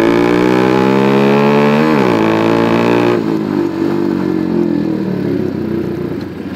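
Motorcycle with a loud aftermarket exhaust revving close by, a strong harmonic engine note that rises, dips and settles into a rough idle with clattering pops, no talking.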